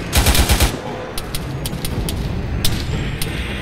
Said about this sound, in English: Still taking fire from somewhere.